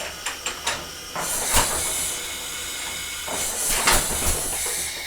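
Ford Model T power unit engine trying to start, with bursts of hissing, chuffing noise and a few sharp clicks, rising and falling without settling into a steady run.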